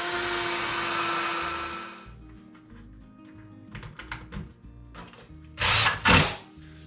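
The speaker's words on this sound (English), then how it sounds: "now I need to put a couple of pilot holes back here." A power drill bores pilot holes, with a steady whir for about two seconds, then short quieter spins and a couple of harsher bursts near the end.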